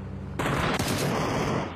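Gunfire in a PUBG esports match: a short, loud burst of rapid shots that cuts in sharply and runs for about a second and a half.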